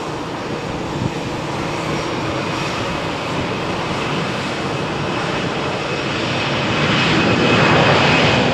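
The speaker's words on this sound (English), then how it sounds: "Takeoff for EasyJet flight to Berlin." An EasyJet airliner takes off from Runway 13 at Malaga Airport on a stormy morning. A loud, steady broadband jet roar fills the whole span and swells further toward the end as the engines spool up.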